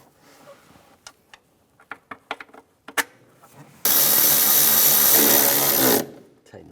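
A power tool tightens starter bolts on a 2004-2010 BMW X3, a loud continuous whirring burst of about two seconds that follows a series of sharp metallic clicks and clinks.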